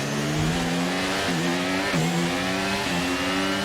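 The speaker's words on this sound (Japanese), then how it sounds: "ぽっかりと空いた真ん中を加速してジャンプアップ。" An F1 race car in F1 23 accelerates hard at the Azerbaijan Grand Prix, its loud engine climbing in pitch through several quick upshifts, each marked by a brief drop before it rises again.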